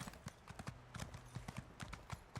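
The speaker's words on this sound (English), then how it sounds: "I still also would like it if you could ride the horse in first person mode" Horse hooves clip-clopping in the video game Elder Scrolls Online, a quick regular trotting rhythm of sharp distinct hoofbeats heard alone at a moderate, fairly quiet level.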